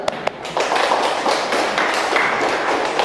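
A classroom group gives a burst of applause, many hands clapping together in a dense, continuous patter after a couple of isolated taps, close and fairly loud.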